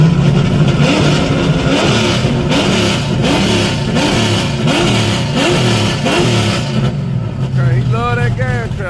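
A car engine revs loudly at a drag strip in a Dodge Demon versus Hellcat shootout, with repeated throttle surges pulsing for several seconds, while people talk over it.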